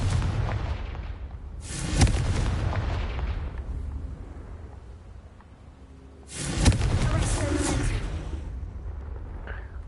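A Confringo blasting spell explodes in the Hogwarts Legacy video game as two heavy booms, each a sharp crack followed by a loud rumbling roar that fades over several seconds, with no talking.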